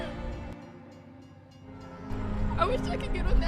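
A train rumbles past, building from a low hum to a louder clattering roar near the end, heard alone without talk.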